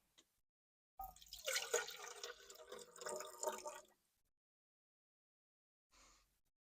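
Water poured from a container into a single cooking pot for pasta inside a car, a close splashing pour lasting about three seconds, then silence and a brief final trickle.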